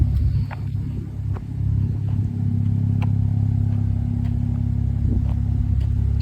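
A 2015 Porsche 911 Turbo S cabriolet (991.1) idles with a Speedtech 3-inch exhaust and 100-cell cats, giving a loud, steady low rumble close by, with no talking.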